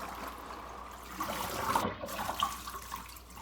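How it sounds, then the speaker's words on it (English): Collard greens rinsed under running tap water in a sink for a final wash, a steady broadband splashing and trickling that swells a little midway, close and continuous with no talk. "doing our final rinse before we cut them down and start cooking our greens"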